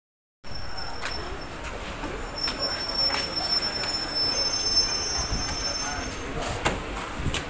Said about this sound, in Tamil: லோக்கல் மெமு எக்ஸ்பிரஸில் C MEMU எக்ஸ்பிரஸ்ன EMU local train